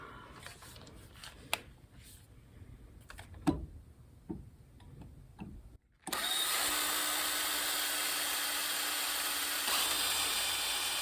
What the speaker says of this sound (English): So let's get them drilled.